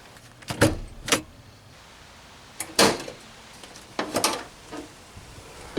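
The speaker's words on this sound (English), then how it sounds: "Let's go ahead and pop the hood." The hood of a Ford Explorer Sport Trac is released and opened: several sharp clunks and latch clicks with a metallic rattle, close by and spaced over a few seconds, with no voices.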